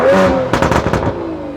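Sports car exhaust with valves switching in sport mode, a smoother opening tone giving way to a loud, crackling burst of several sharp pops and rumble, close by and alone.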